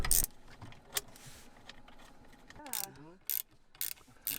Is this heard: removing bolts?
yes